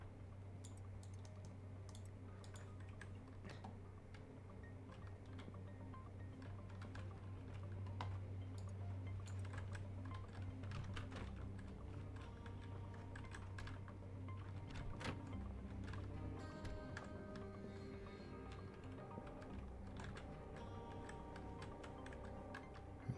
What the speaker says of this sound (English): I don't know why I bought such a mechanical keyboard. It makes... it is so goddamn loud.